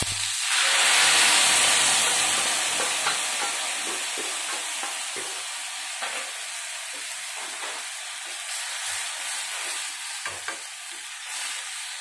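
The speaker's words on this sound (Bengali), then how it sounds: "কাঁচা লঙ্কা আর সর্ষে আলাদা করে পেস্ট করে রেখেছিলাম, একটু জল দিয়ে ওটাকে গুলে আর তেলের মধ্যে দিয়ে দেবো।" Green chilli and mustard paste thinned with water hits hot oil with a loud burst of sizzling, then settles into a steady frying hiss broken by stirring scrapes, close and continuous.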